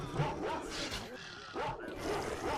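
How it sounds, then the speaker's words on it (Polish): Dogs barking and growling in the S.T.A.L.K.E.R.: Shadow of Chernobyl game, short yips and rough growls at an arena, close and fairly loud, mixed with a steady background wash. "Ktoś tu na mnie szczeka. Warczy."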